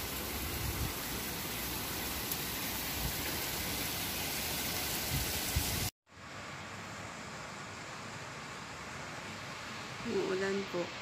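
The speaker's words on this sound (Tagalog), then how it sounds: "Umuulan po." Heavy rain pours in Muscat, Oman during a thunderstorm, a dense steady hiss that drops abruptly midway and returns quieter, as if heard from a third-floor vantage, with faint voices underneath.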